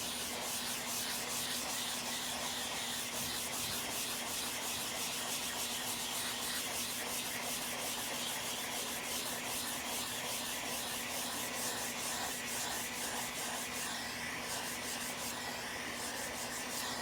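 Sandpaper rubs steadily over body filler on an Audi panel, working along a body line edge beside masking tape, a continuous close scratchy hiss that carries on unbroken for the whole stretch.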